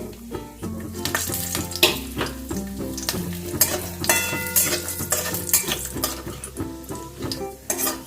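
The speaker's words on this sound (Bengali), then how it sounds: "এবার আমি তেলটার মধ্যেই কাজুগুলোকে দিয়ে দেবো" Cashews sizzle steadily in hot oil, with occasional scrapes and clinks of stirring in the pan.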